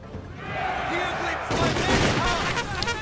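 Scattered musket volleys crackle through a Shogun 2 battle as a general's bodyguard fires its last shots, with irregular bursts and faint game tones beneath, steady and moderately loud throughout.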